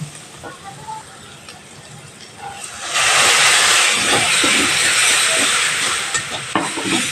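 Water poured into spice paste frying in oil for a Bengali Bombay duck fish curry, bursting into a loud, steady steam hiss that follows quieter stirring and frying.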